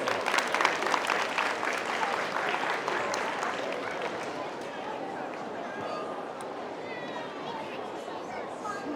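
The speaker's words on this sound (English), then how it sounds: "Big round of applause for the Persians." Audience at a London cat show applauding the Persians on the catwalk, a loud burst of clapping that tapers into lighter sustained applause with chatter underneath.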